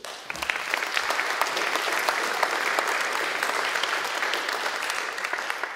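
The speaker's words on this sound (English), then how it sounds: "So a big round of applause for them" An audience at a university student union enterprise awards ceremony applauds the judges, dense, steady clapping from a sizeable crowd filling the room for several seconds.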